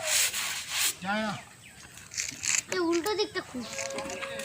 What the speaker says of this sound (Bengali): কার্পেট ধোয়া হচ্ছে